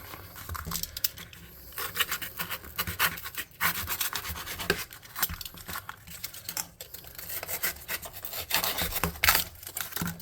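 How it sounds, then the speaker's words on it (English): Craft knife slicing excess material off a model ruined building for tabletop gaming, heard as close scraping and rasping cuts in irregular bursts with no talk. "Then we're going to get our knife. Cut off this excess over here."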